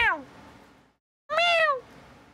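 A voice imitates a cat's meow while streaming the Monk class in a video game: two loud, drawn-out meows, the first brief at the onset, the second rising then falling, separated by a short silence over faint background sound.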